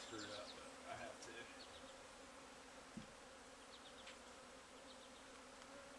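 Roughly a thousand bees buzz in a dense, continuous hum close by, with individual bees whining past now and then, soft and steady throughout.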